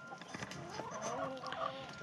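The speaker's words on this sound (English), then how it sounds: "I've got this one here right between our chickens" Farmyard chickens cluck close by in their pen beside the goats, a busy run of short overlapping clucks and squawks that continues steadily for about two seconds with no talking.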